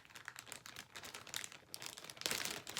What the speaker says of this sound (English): Okay, so it comes in this plastic bag.